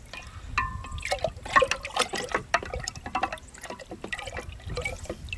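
Wine must being stirred after yeast nutrients are added, wet sloshing and trickling liquid sounds with small splashes and irregular swirls, close up and moderately quiet.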